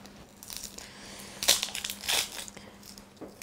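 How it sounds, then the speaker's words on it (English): Papery onion skin being peeled off by hand in a kitchen, giving a few soft crackling, crinkling tears at close range with no talk. "We're going to peel the onion."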